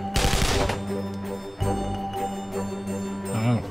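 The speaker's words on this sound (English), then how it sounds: "The bloke with a big machine gun coming." A big machine gun in the game AntiSquad rips off a loud burst right at the start, followed by quieter scattered shots and ringing tones.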